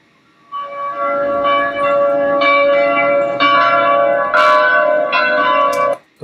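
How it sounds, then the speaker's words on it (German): Church bell sound effect for a Märklin H0 model railway layout: several ringing bell strikes overlap in a steady, resonant peal that swells in and stops abruptly after about five seconds, with no voices. "Das sind so die Kirchenglocken"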